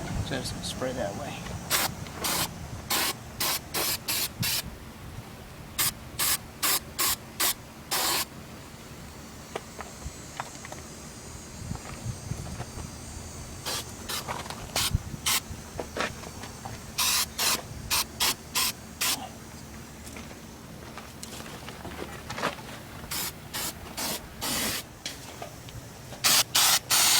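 Repeated short bursts of weld-through primer sprayed from an aerosol can onto Mustang wheelhouse sheet metal during a restoration, several quick hissing spurts in clusters with pauses between, close and loud over a low background hum.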